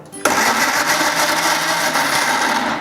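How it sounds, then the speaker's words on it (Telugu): A kitchen mixer grinder blending jackfruit into a paste starts abruptly and runs at a steady, loud, whirring roar to the end. "పనసపండు ఏదైతే మనం తీసుకున్నామో కదా దాన్ని మిక్సీ పెట్టి పేస్ట్ చేసుకుందాం."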